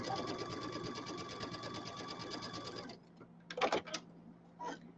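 Sewing machine stitching fabric pieces for a quilted pillow, a fast steady motor hum with rapid needle ticks for about three seconds, then stopping, followed by a few short bursts of stitching.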